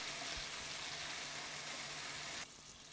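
An onion mixture fries in a pan for prawn and chicken jambalaya, giving a soft, steady broadband sizzle that stays even and quiet. It drops to a lower level near the end.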